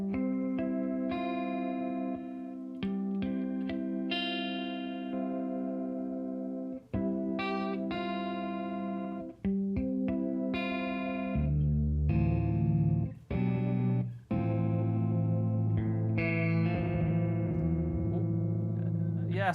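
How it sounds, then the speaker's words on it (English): Electric guitar played through a wobbling modulation effect that warbles the pitch like worn cassette tape, sustained chords and notes ringing steadily with brief gaps between phrases. "It's like old cassette wobble"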